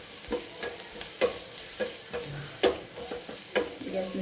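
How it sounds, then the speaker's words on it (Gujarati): Onion and green chillies sizzle with mustard seeds and a pinch of asafoetida in hot oil over a low flame, a close steady frying hiss broken by repeated spoon scrapes and stirs against the pan. "પિંચ જેટલી હિંગ, ડુંગળી અને લીલા મરચાં અને સરસ આને મિક્સ કરી લઈએ"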